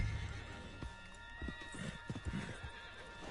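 Horse hooves clip-clopping at a steady riding pace with a brief whinny, in a Red Dead game scene, heard under low ambient background with no speech.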